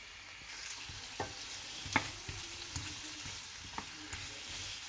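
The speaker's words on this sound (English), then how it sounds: "Give it a good stir." Potatoes fry in garlic butter in a pan with a soft, quiet sizzle, while a utensil stirs them with a few scattered scrapes and clicks against the pan.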